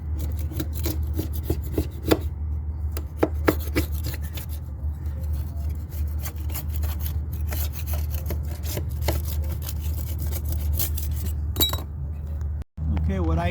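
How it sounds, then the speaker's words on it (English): Old caulk on a 2006 Leopard catamaran's Lewmar Series 10 hatch fitting is cleaned off with a small emery wheel and light sandpaper, producing steady close rubbing and rasping with sharp scraping strokes and occasional clinks, briefly cut out near the end. "Use a little emery wheel, some light sandpaper."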